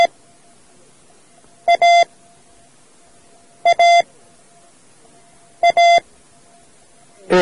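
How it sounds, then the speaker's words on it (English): Three evenly spaced bursts of a steady electronic tone, each the Morse code letter A, a very short beep followed by a longer one, separated by about two seconds of near silence. "Here is our first Morse code character."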